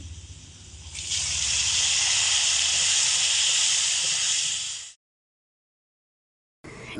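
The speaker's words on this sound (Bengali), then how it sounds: "এবার আমি এর মধ্যে দিয়ে দেব কেটে রাখা 2টো টমেটো কুচি।" Two chopped tomatoes hit a pan of potatoes that have been frying for several minutes, bursting into a loud, steady hiss that holds for about four seconds, then cuts to silence before the sizzle resumes.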